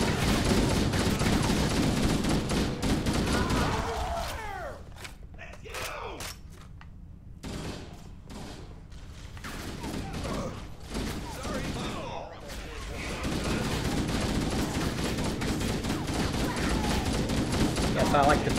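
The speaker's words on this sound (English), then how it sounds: "I like to fire in short control bursts by just sort of tapping the fire button" Rapid automatic gunfire in the Halo video game, fired in short controlled bursts with brief pauses between them, loud and close amid game effects, with a quieter stretch in the middle.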